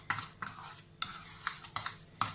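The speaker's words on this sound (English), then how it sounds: "give everything a stir up so everything clings" A spoon or utensil stirs prawn won ton filling with egg white, chestnuts, coriander, garlic, ginger and spring onions in a bowl. About six close, wet scraping strokes come in a steady rhythm with short pauses, and no voices.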